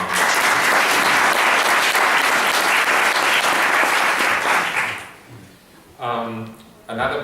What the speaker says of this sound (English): I would like for us to give a round of applause also to Tom Cacciatore